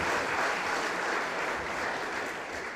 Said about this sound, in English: So can you give him a big round of applause?